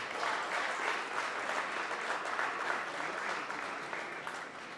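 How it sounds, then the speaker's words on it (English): A large crowd claps continuously, a dense, even wash of applause holding steady throughout before easing slightly at the end. "I think Lagos deserves a round of applause."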